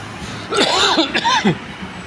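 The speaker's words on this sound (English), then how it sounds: "I just coughed" A person coughs twice in quick succession, loud and close, with harsh voiced bursts over a quiet background.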